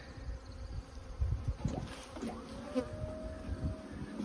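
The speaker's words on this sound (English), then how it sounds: "Bees found the honey house yesterday" Bees buzzing around a honey house during the canola season, a steady insect drone with individual bees whining past close by, rising and fading as they fly near.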